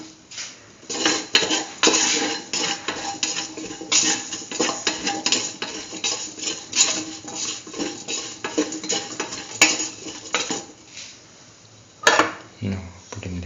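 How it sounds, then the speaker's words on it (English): Kidney bean and chayote stew being stirred in a pot, a steady run of utensil scrapes and clinks against the metal, close and fairly loud, with a faint sizzle underneath. "Mix thoroughly."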